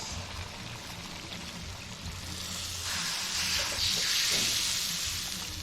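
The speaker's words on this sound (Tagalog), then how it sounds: "Lagay na natin ang tubig" Water poured into a pot of pinakbet with grilled milkfish cooking outdoors, a rising hissing splash and bubbling over the steady sizzle of the pot, nearby and moderately loud.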